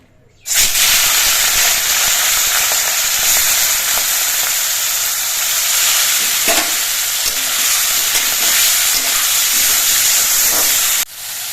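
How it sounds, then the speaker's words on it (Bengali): Prawns hit hot mustard oil and break into a loud, steady sizzle and hiss that runs for about ten seconds before cutting off abruptly. "সর্ষের তেলটাও বেশ ভালো মতো গরম হয়ে গেছে এবার সবগুলো মাছ একবারে দিয়ে আমি ভেজে নেব"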